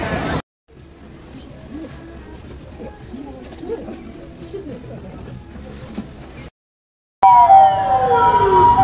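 A siren rises loudly near the end after a brief silence, wailing close by over street noise and traffic, with background talk earlier.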